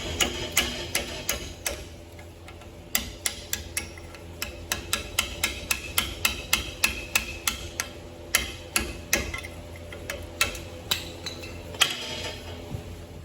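Repeated sharp metallic hammer strikes beat out an old spring shackle on a 1999-2004 Chevy Silverado, a close, steady series of ringing blows with short pauses, echoing in a quiet workspace.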